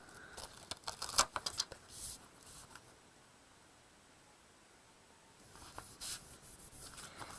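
Backing is peeled off a sticker sheet during a paper crafting project, giving dry, scratchy rasps in short bursts, then a quiet pause before more rustling peels toward the end.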